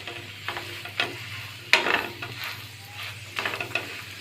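An egg paratha fries in oil in a frying pan over a medium flame, a soft continuous sizzle punctuated by several scraping stirs and flips of a spatula, close up with no talking.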